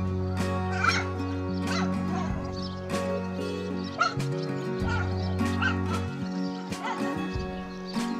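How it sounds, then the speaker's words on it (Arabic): Six very young puppies in Umm Qais, Jordan, yip and whimper close by in a continuous, overlapping chorus of high, thin whines broken by short sharp yelps. "وجدتهم وعددهم 6 من جراء الكلب، ما زالوا صغارا"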